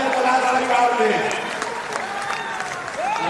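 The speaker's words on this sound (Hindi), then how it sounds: "एक बार इनका जोरदार तालियों से स्वागत कीजिए जनपलाल परिवार में।" An audience claps strongly inside Patna's Bapu Sabhagar hall during a Jan Suraaj state-level workshop. The dense, sustained applause fills the whole stretch, and a voice is heard over it.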